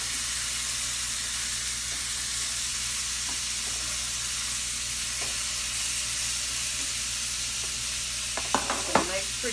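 Pork chops and onion sizzle steadily in a frying pan, a loud continuous hiss close by, with a few clatters of a utensil near the end.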